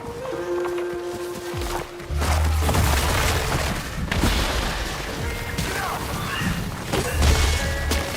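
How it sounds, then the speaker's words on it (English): Destruction of a Juboko tree in Ghost of Yotei: heavy booms and crashing thuds, a deep impact near two seconds followed by rumbling debris and another low hit toward the end, loud and close over game ambience. "Juboko tree destroyed."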